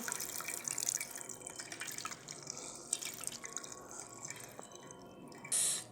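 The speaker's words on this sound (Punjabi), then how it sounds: "ਹੁਣ ਆਪਾਂ ਪਾਣੀ ਨਿਚੋੜ ਦੇਾਂਗੇ" Water trickles and drips close by as a cloth of fresh paneer is squeezed, splashing unevenly into a basin or sink, with a brief louder splash near the end.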